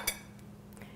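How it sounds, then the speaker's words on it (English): A fork cuts into a fried chicken breast cutlet on a plate, with a single light clink of metal on the dish at the start and then quiet. "I'm going to take my fork and just make a little cut right here"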